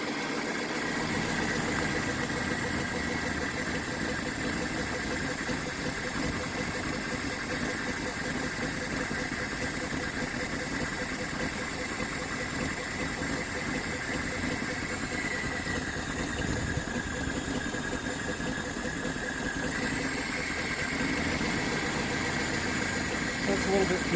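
A 1983 Toyota SR5 4X4 with about 141,000 miles idles steadily after sitting as a garage find, a continuous close engine drone with hissy upper tones and no pauses, running a little fuel starved.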